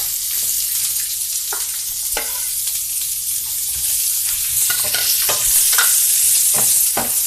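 Sliced onion sautés in a pan with a steady sizzle, and close stirring scrapes and clacks come at irregular intervals, with no talking.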